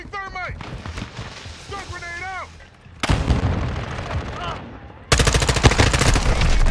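Gunfire in the Modern Warfare 2 multiplayer beta, loud sharp reports and a dense burst of shots toward the end, mixed with a player's excited voice and in-game sounds.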